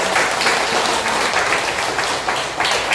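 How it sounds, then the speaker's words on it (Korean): A church congregation at a Sunday worship service applauds together, dense sustained clapping filling the room loudly and evenly throughout with no pauses. "우리 기도하는 마음으로 박수 한번 부탁드릴까요?"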